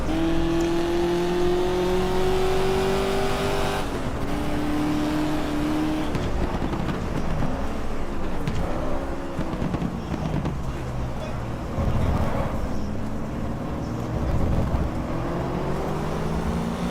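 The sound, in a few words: car engine in video game GT Legends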